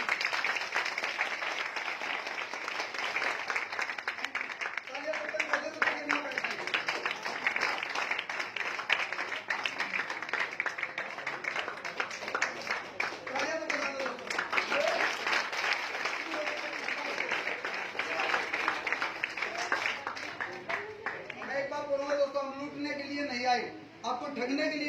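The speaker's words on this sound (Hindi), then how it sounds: "इनके लिए एक बार जोरदार तालियां।" Sustained applause from an audience at a company event in Bundi, Rajasthan, a dense steady wash of clapping lasting throughout, with voices and cheering mixed in and some speech near the end.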